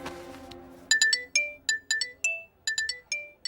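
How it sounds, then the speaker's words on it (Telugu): A mobile phone rings with a bright, electronic chiming melody of quick repeated notes, starting after a short fading tone and carrying on clearly and close, with no speech. "నన్ను ఇది ఫోన్ చేసిందేంటి?"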